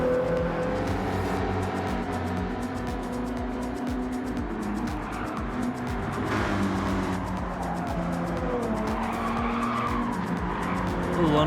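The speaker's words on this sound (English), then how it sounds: "Little understeer there, tire squealing" Race car tires squealing through an understeering corner in Gran Turismo 7 on a high-speed ring, a continuous loud skidding whine layered over a roaring engine that lasts throughout.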